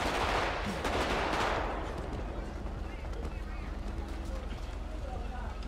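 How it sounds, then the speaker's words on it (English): Gunfire rings out outdoors in a residential neighborhood, a dense burst of loud shots in the first two seconds that fades into lingering rumble and background noise, with voices faintly present. "Who the fuck shooting though?"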